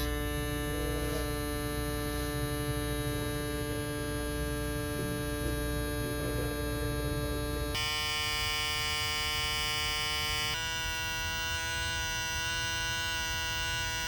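A heavily used Instinct electric shaver hums steadily with a buzzing, tonal drone that holds a constant level. Its pitch shifts abruptly twice partway through.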